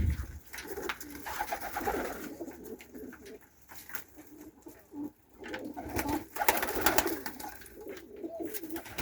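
Several pigeons coo softly and repeatedly nearby, their low throaty calls overlapping with some rustling in the background.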